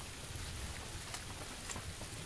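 Steady rain hisses without a break for the whole stretch, soft and even, with no voices over it.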